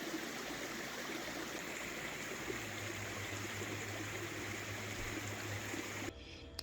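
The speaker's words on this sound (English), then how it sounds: "right beside it, there was a little babbling brook, so cute" A small babbling brook trickles and gurgles in a steady, close, continuous wash of water sound, with a low hum joining partway through and the flow cutting off abruptly near the end.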